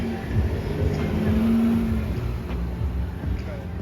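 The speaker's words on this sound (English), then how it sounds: "I think the Porsche 918 is about to take off." A Porsche 918 supercar pulls away at an outdoor Cars & Coffee show, its engine a steady low rumble that swells slightly mid-clip under crowd murmur and faint voices.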